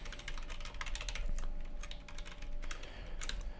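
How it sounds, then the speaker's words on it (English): Someone types a password on a computer keyboard: a continuous run of close, crisp key clicks with uneven rhythm, steady and clear throughout with no talking. "you can all tell what password I'm typing in based on the noises of my keyboard"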